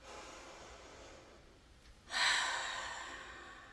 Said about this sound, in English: Taking a deep breath in.